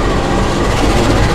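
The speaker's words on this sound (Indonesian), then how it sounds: "lokomotif dari kereta api Baturaden ini langsung dilepas ya teman-teman. Langsung dilepas dan" Train locomotive of the Baturaden Express being uncoupled and shunted at Kroya station, Indonesia, giving a steady loud rumble of rolling rail vehicles with faint rhythmic wheel clatter throughout.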